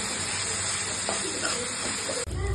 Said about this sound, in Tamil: ஸோ வெங்காயம் நல்லா வதங்கிடுச்சு